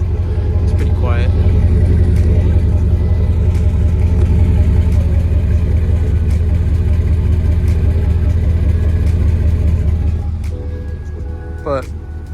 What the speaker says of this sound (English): It's the stock exhaust, so it's pretty quiet.